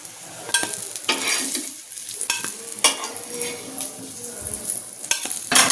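Brinjal pieces fry on a flat tawa with a steady close sizzle, broken by repeated scraping and stirring strokes of a spatula against the metal pan.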